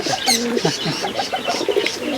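A pigeon for sale coos in a run of soft, throaty, repeated calls, close and fairly loud, with a brief higher chirp early on.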